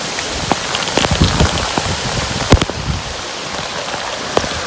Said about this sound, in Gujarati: વરસાદ આવી ગયો છે ફૂલે ફૂલ, તમે જોઈ શકો છો